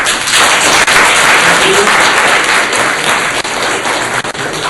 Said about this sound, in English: if you could give a round of applause, Jeff.